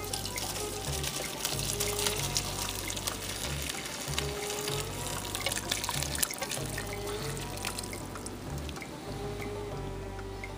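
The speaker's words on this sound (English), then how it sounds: "I'm gonna pour it in my pan through a mesh strainer." Homemade ramen broth poured from a pot through a mesh strainer into a pan, a steady close liquid pour with dripping and splashing for about ten seconds, no voices.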